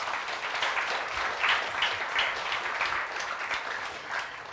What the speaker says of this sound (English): Give some applause.